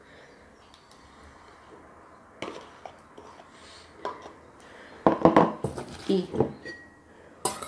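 Watermelon salad being stirred in a bowl, with a few soft scrapes early on, then a burst of sharp utensil-on-bowl clinks and clatter toward the end, and a brief spoken word.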